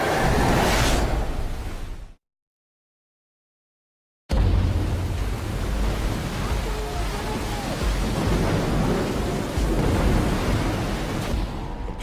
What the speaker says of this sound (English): Caught in a storm off the coast of Africa.